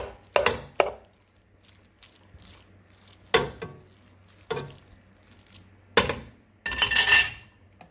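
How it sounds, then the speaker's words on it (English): Carrots tipped into a pot of parboiled macaroni, giving a handful of separate clinks and thuds of pieces and utensil against the pot, spaced out with quiet gaps between. "And now the next thing I'm gonna do is to add the carrots."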